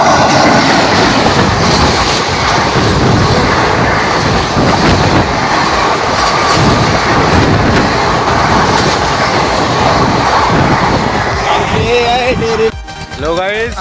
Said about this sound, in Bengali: হঠাৎ দেখি সামনের দিকে ট্রেন চলে আসছে,